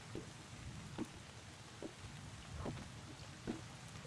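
Rain falls in the Bottle Pilgrim video game during a walk, a quiet, steady patter with a few sharper drops or splashes standing out every second or so.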